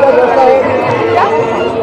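A crowd of devotees gathers at a Shiv temple on Maha Shivratri, producing a dense, loud wash of overlapping chatter and movement that stays close and continuous throughout.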